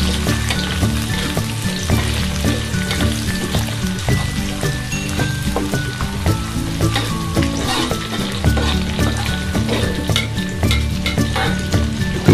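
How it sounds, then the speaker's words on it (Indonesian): Sliced young papaya stir-fried in a pan with galangal, chili and salam leaves sizzles steadily and loudly up close, with continuous scraping and tossing of the spatula and no talking. "Oseng-oseng kembali."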